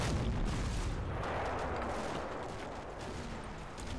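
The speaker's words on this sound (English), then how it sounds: "there's some MGs there, so he's probably doing a bit of area fire maybe" Machine gun area fire in the WWII game Combat Mission, a dense, continuous rumble of distant automatic gunfire and booms rolling steadily throughout without voices.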